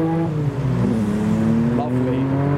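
A loud Nissan R32 GTR accelerates hard out of a car park at a custom car event, its engine note rising and falling steadily at close range over about two and a half seconds.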